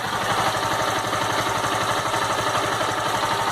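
A 2016 Honda Fan 160 motorcycle engine runs steadily at idle nearby, a continuous mechanical chug with fine rapid ticking and no voices.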